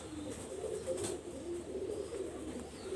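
Several low, gentle coos from Bondleje pigeon chicks repeat in a soft rolling rhythm nearby, faint but clear over light background noise, with nobody speaking.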